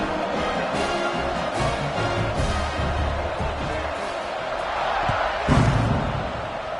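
A football stadium crowd roars at a kickoff, a broad, continuous wash of distant cheering with a few louder swells and a sharp burst near the end, under faint commentary.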